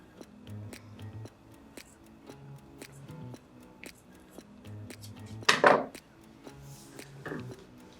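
Small scissors snip the fringe edges of shuttle-tatted flower earrings, giving a series of quiet, evenly spaced clicks with one louder rustling burst near the end.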